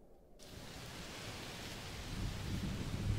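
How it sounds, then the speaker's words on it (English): Rain pours steadily in a video game thunderstorm, a broad hiss that swells louder, with deep rumbling building near the end and no voices. "It's raining a lot. Yes. Must be a heat storm."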